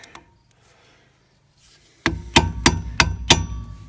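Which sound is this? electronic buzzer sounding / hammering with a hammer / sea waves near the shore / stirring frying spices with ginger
hammering with a hammer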